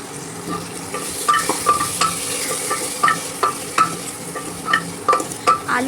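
Spice masala for rajma dal fries in a pan while a spoon stirs it, repeated scraping strokes over a steady loud sizzle, close up and without voices.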